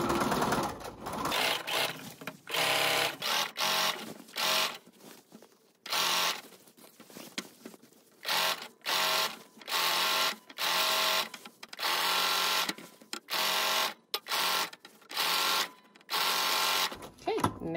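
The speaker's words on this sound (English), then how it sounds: "So I'm going to just get started sewing, and you're going to continue to make a straight stitch the whole way down" A sewing machine runs a straight stitch attaching Ban-Roll to the raw edge of a silk scarf panel, whirring in repeated bursts of a second or two separated by brief pauses, loud and close.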